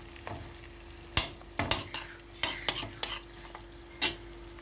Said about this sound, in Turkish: 400 sarımsak ilave ettim. Şöyle karıştırıyorum.